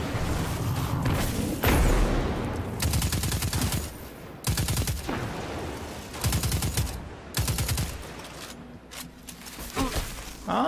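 Weapons firing in the shooter game Destiny 2: several loud bursts of rapid automatic gunfire separated by brief pauses, with a mechanical click and some movement between volleys.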